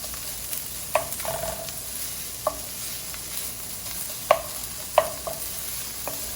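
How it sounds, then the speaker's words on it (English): Onion frying in a pan for stuffed aloo tikki, stirred with a utensil: a steady soft sizzle runs throughout, broken by several sharp scraping stir strokes, close and alone without talk. "we'll add the onion in there"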